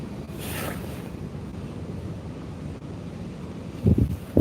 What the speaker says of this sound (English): Yeah, wind's bad all week.